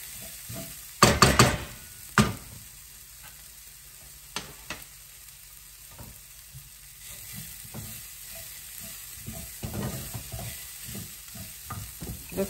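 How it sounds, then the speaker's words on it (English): Onions and chicken sauté in a pan, opening with a burst of loud spatula clatter, then quieter sizzling broken by intermittent scrapes and taps of stirring, close by. "I'm going to keep sautéing these till the onions are clear-ish through."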